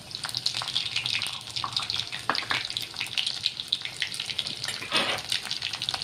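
Sliced garlic dropped into hot oil already spitting with cumin seeds, giving a dense, steady hiss and crackle that stays close and even throughout with a few brief louder spits.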